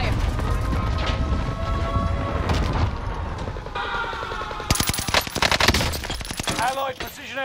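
Dense automatic gunfire and booming shots in a Modern Warfare game, loud and continuous, with rapid bursts intensifying near the end and game voice callouts mixed in.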